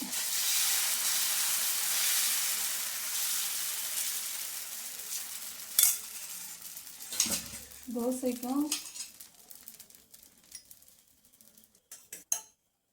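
Dosa batter hits a hot pan and sizzles loudly at first, then the hiss fades away. A few clinks and scrapes of utensils follow near the end.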